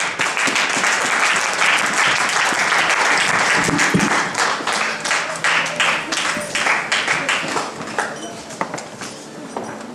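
A church congregation breaks into loud, dense applause that holds steady, then thins into scattered, uneven claps toward the end.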